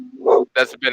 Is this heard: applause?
no